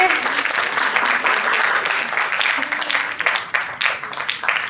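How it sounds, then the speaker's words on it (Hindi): An audience at a retirement ceremony claps loudly and continuously, with the applause thinning toward the end and some scattered voices mixed in. "तालियां बजती रहनी चाहिए"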